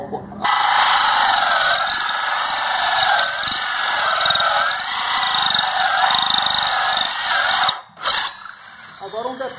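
A power drill spins a hole saw into wood while making a wooden mug, giving a loud, steady whining grind that holds for about eight seconds before stopping abruptly, then a brief restart.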